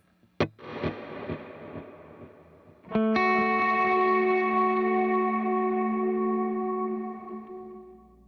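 A clean electric guitar on the bridge pickup, no drive, plays a couple of plucked notes, then a full strummed chord that rings out and sustains with a soft eighth-note reverb tail.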